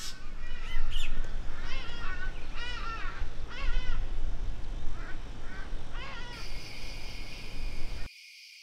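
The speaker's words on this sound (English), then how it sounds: "I'm just standing here and listening to the birds flying around," Crow-like birds caw repeatedly in woodland at sunset beside a camped Airstream trailer, a series of harsh, fairly close calls over steady outdoor background noise that cuts off abruptly at the end.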